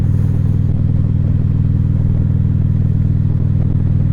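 A motorcycle rides along the road with a loud, steady low engine drone and wind rumble. It stays close and constant throughout, with no talking.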